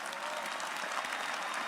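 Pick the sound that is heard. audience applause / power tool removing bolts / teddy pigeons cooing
audience applause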